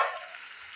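Diced potatoes frying in oil with spices in a pan for a curry, a soft continuous sizzle that starts a little louder and settles into a steady hiss, with no voices.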